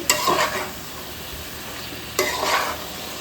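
Ridge gourd and potato frying in a spiced masala, a continuous sizzle broken by two sharp stirring scrapes of a spatula in the pan.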